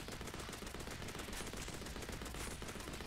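Rapid automatic gunfire sprays continuously in the zombie shooter game KeepUp Hunter, a dense, steady burst of loud shots running throughout with no pauses.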